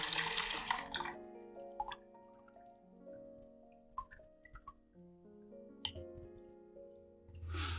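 Kodak HC-110 film developer is poured back into a developing tank, giving quiet, close gurgling trickles and scattered drips with no talk.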